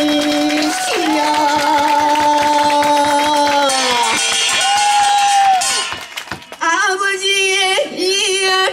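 An audience claps steadily in rhythm at the 2024 lantern concert at Daedeoksa temple, the even beats running under loud sung music and crowd noise before breaking into a brief, choppier stretch near the end.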